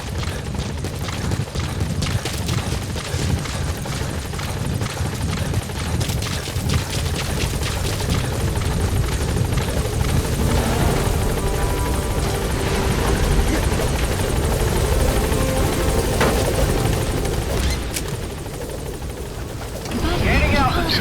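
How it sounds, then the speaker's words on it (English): Support helicopter in the Metal Gear Solid V video game arriving at a landing zone in Africa, a loud continuous rotor thrum and engine roar filling the scene throughout, with radio-style voices talking over it. "Support helicopter has arrived."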